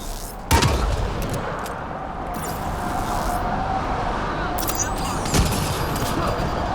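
Gunfire and an explosion from a grenade in the video game Mass Effect Andromeda, with two sharp loud blasts over a constant dense roar of combat noise.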